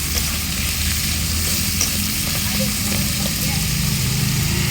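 Crab pieces sizzle steadily in a hot pan as they are stirred, a dense, continuous frying hiss with scraping stirs at close range, alongside a low rumbling hum.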